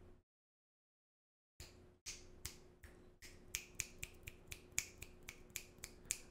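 Repeated finger snapping, about a dozen crisp close snaps after a brief silence, speeding into a steady rhythm, with no talking.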